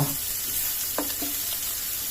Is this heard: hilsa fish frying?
yes